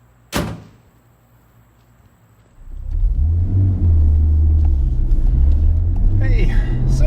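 A 1994 Nissan Skyline R33 GTS25t with a stock turbo engine starts moving on a test drive after a door thuds shut, then a low engine rumble rises and shifts through revs, with a faint voice underneath.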